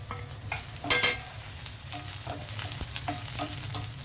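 Sliced onion with green chillies sizzles in a pan while being stirred, a steady hiss broken by scraping strokes and a louder stir near the start, no voices.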